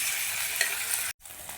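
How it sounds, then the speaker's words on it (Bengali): Paneer cubes fry with a little salt in hot oil in a wok, making a loud, dense, continuous sizzle that cuts off abruptly for a moment before resuming more quietly. "কড়াইয়ে তেল দিয়ে অল্প পরিমাণ নুন দিয়ে পনিরগুলো দিয়ে ভালো করে ভেজে নিচ্ছি।"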